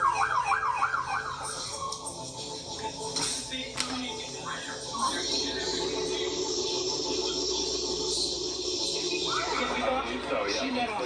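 Police and ambulance sirens arriving at a chaotic scene, wailing and yelping tones rising and falling, switching pattern partway through, mixed with background commotion and voices.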